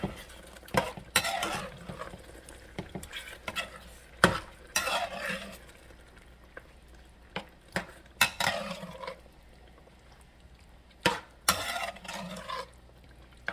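Shrimp going into a pan of stewed coconut fish: intermittent stirring and utensil clinks against the pan over a soft, low sizzle, in irregular bursts with quiet gaps.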